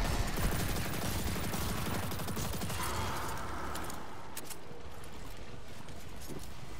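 Rapid gunfire in Destiny 2 during the Pit of Heresy, a dense burst of repeated shots that thins out over several seconds, with no talk.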